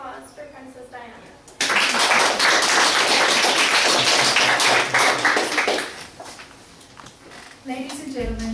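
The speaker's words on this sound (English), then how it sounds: "So please give a round of applause for Princess Diana." An audience bursts into loud, sustained applause in a hall, dense clapping that starts abruptly, holds for several seconds and then tapers off, with a voice speaking before and after.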